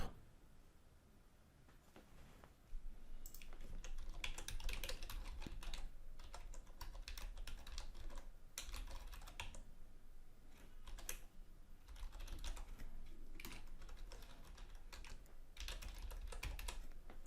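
Fingers type on a computer keyboard to fill in sign-up account details for CircuitMaker, a steady stream of close, crisp key clicks in bursts with brief pauses, no voices.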